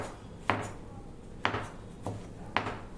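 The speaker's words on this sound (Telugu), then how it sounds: "ఇలా ముక్కలు అయితే కోసేసుకోండి." A knife chops ridge gourd into pieces on a board, giving three or four distinct sharp chops spaced about a second apart, close and fairly quiet over a low background.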